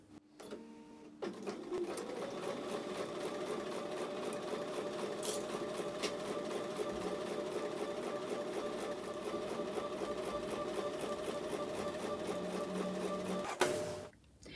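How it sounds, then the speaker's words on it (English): A sewing machine stitching quilt columns together runs at a steady fast rhythm for about twelve seconds, close and continuous with a dense mechanical whir, starting and stopping abruptly with brief quiet at each end. "So I'm going to take that over to the sewing machine now."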